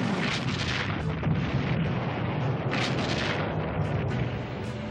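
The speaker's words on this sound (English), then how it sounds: "Now, equipped with a helicopter for spotting, her big guns speak once again." Big guns of the battleship Missouri firing during Korean War shore bombardment in 1950, a sustained rolling roar of heavy rumbling blasts with no gaps, dense and loud throughout.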